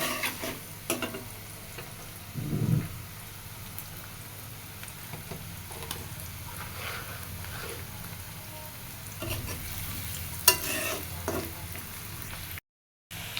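Cut, washed pieces of country chicken fry with onions in a pan, a fairly quiet steady sizzle with occasional spoon scrapes and stirring knocks, ending in a brief cut-out of silence.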